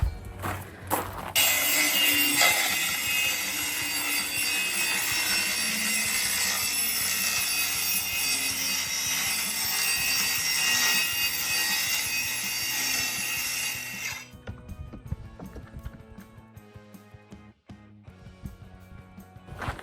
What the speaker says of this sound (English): put my guide rail on halfway and then stop my saw, move my guide rail along and then cut the rest